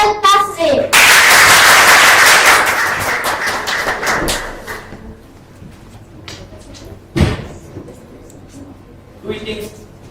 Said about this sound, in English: Everyone, let's give a big round of applause for Brian Taslim.